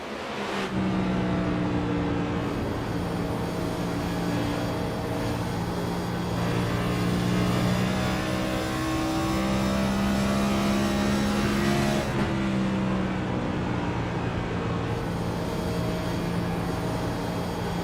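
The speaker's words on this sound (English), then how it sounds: "Let's take a lap on board with James McKee." Onboard race car engine from a racing game league, loud and sustained with rising and falling pitch through gear changes and corners, one short lift near the middle, no talk.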